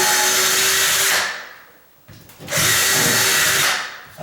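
A power drill drives screws into a wooden door frame, two loud bursts of whirring with a short quiet gap between them, close up.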